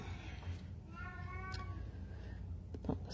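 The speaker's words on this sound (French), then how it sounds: "Je m'excuse pour mon minou." A pet cat meows once nearby, a short drawn-out call, against a quiet indoor hum with faint rustling.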